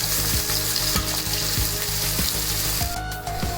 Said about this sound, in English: So the onion is nicely fried now.